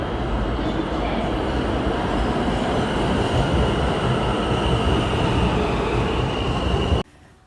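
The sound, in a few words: New York subway L train arriving at station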